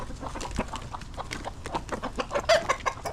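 Hens cluck continuously in a busy, overlapping chorus, close by and fairly loud, with no talking.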